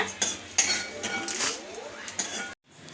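Roasted urad dal tipped from a pan onto a plate for chutney, giving a close run of scraping, clinking metal and pouring rattle that stops abruptly near the end.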